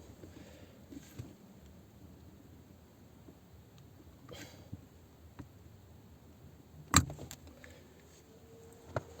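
Inside an Opel Corsa B, the gear shift knob is pulled hard upward, with quiet rustling and handling noises building to a sharp loud snap as it comes free, followed by faint clicks.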